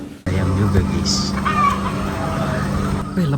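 Chickens cluck near a cattle shed on a forest trek, a few short calls over steady background noise and rustling.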